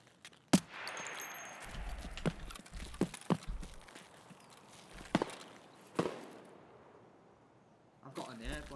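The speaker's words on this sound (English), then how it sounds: "Shots over here." Scattered sharp gunshots from Escape from Tarkov gameplay crack out one at a time at irregular intervals, some close and loud, others fainter, over soft background movement, with voices talking between the shots.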